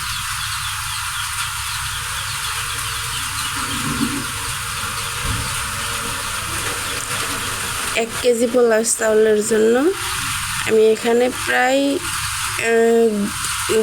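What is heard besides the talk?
hot water poured into frying polao rice, sizzling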